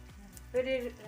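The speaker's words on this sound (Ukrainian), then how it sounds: "Наші котлетки жаряться на невеличке кількість олії." Vegetable cutlets sizzle softly in a pan with a small amount of oil, a faint, steady hiss with a brief voice over it.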